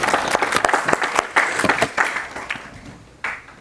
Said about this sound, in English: So I want to give him a round of applause.